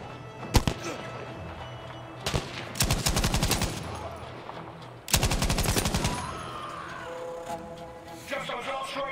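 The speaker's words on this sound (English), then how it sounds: "stationären MG!" A stationary machine gun fires in Battlefield V: loud, close, rapid bursts of automatic fire, several separate volleys with single sharp shots between them, and battlefield noise underneath.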